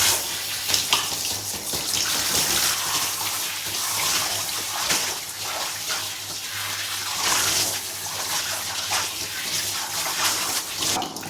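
Warm water runs steadily from a tap, splashing and gushing as gelatin is rinsed out of curly hair, with a continuous broad hiss that shifts slightly in intensity throughout.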